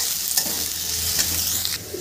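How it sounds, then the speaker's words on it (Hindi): Two chopped medium onions fry in mustard oil in a kadhai for egg curry, a close, constant sizzle with a few brief scrapes of a spoon stirring them. "दो मीडियम साइज़ के प्याज काटे हैं छोटे छोटे टुकड़े में, इसको फ्राई कर लेते हैं।"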